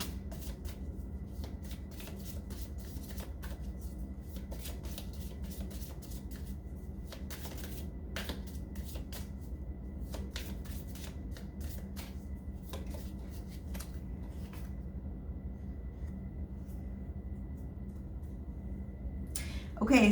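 Tarot cards shuffled by hand during a reading, a continuous run of soft riffling clicks and flutters lasting the whole stretch over a low steady background hum, close and moderately quiet.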